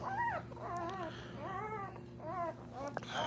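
A newborn Boerboel puppy whimpers and squeaks close by in a series of short, rising and falling cries, with a low steady hum underneath.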